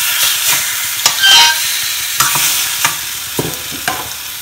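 Eggs cooking on a low flame in a non-stick pan, a soft steady sizzle broken by several sharp clinks and scrapes of a utensil stirring, close up with no voices.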